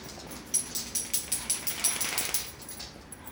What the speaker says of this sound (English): So why are you all barking?